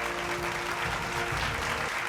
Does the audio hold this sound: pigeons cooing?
no